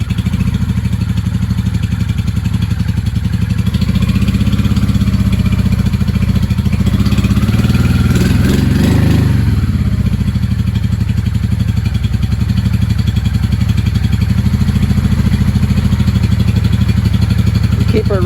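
A 1995 Honda Shadow VLX 600 (VT600CD) with a carburetor fault runs steadily close by, a dense continuous low engine drone with one brief swell in revs around the middle.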